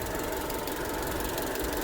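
A Jeep engine, Renegade, Compass or Cherokee type, runs at a steady warm idle after the cooling fans have shut off, a constant close mechanical hum with faint ticking and no talk.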